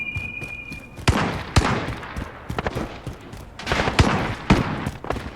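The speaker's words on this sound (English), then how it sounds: "It's definitely a great spread shotgun. But it doesn't have the range it needs. The R90 shotgun." R90 shotgun blasts in Call of Duty: Modern Warfare, several sharp booming shots spaced about half a second to a second apart over a busy battlefield din, with no talking.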